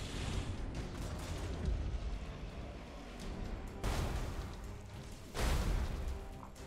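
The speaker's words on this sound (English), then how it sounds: "Big explosions, take big chunks out of them." Deep, rumbling space-battle explosions in the strategy game Battlefleet Gothic Armada 2, with the Imperial fleet against the Tyranids. Two distinct booming blasts stand out over a continuous low roar of combat.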